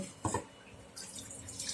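Water pours and splashes briefly into a cooking pot, two short close bursts separated by a pause, with no voices.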